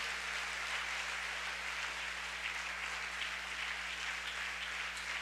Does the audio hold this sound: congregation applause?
yes